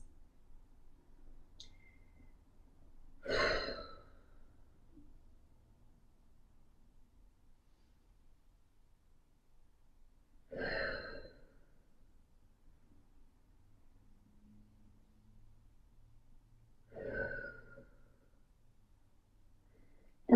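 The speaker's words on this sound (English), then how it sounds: "So I want us to do 3 deep breaths." Three slow, deep breaths taken during a foam roller workout, each a soft airy whoosh spaced several seconds apart, close and fairly quiet over a faint background hum.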